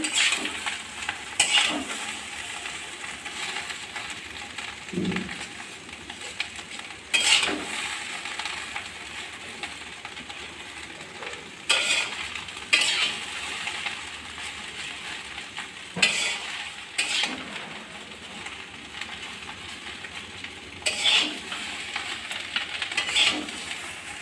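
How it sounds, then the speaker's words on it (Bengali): Chow mein being stirred in a pan, a steady close sizzle of frying noodles broken by regular scraping strokes of the spatula, with occasional clinks of the utensil against the metal. "অল্প অল্প করে দিয়ে নাড়তে হবে ভালো করে"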